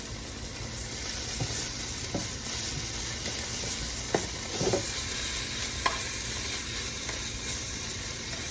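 Ham frying in a pan with onions, a steady broadband sizzle and hiss close by, with occasional soft scrapes and taps of a utensil stirring it.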